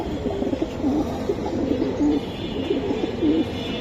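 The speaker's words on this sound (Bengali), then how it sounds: "এটা বেজি কবুতর ভাই, একবার র কবুতর বেজি" Several Bezi pigeons coo steadily in a close, continuous chorus of soft, rolling throaty calls repeating throughout, with no talking.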